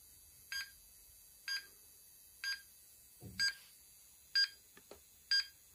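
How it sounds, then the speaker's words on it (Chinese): A homemade low-cost inverter power supply's buzzer sounds its low-voltage alarm, giving six short, evenly spaced electronic beeps about once a second, clear and alone, with a couple of faint clicks near the end. "它一直在报警，这个蜂鸣器一直在报警啊"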